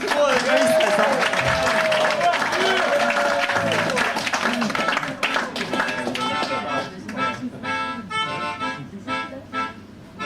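Concert audience at La Commune d'Aligre breaks into applause, dense clapping with a sung or spoken voice carrying over it early on, then thinning into more scattered claps with rising musical tones toward the end.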